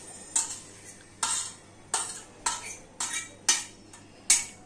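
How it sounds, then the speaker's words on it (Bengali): Hog plums go into a wok and are stirred, giving a regular series of seven or eight sharp metallic scraping clinks about half a second apart, close and clear with no talking. "গ্যাসে কড়াই বসিয়ে আমড়াগুলোকে দিয়ে দেব।"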